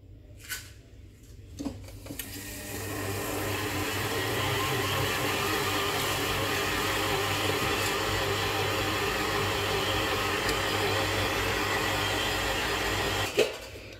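Electric stand mixer kneading bulgur kubbeh dough with added water, a steady close-up mechanical whir and hum that runs continuously for most of the span after a couple of brief knocks, with no talking.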